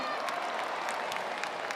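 Crowd applause at a campdraft rodeo during a world championship round, a steady broadband clapping wash from a large audience that holds at an even level throughout, heard from a distance.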